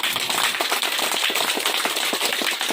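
A crowd at a farmers' gathering in Sungai Berembang, West Kalimantan, claps in a loud, close burst of sharp, distinct hand claps that keeps up across the whole moment.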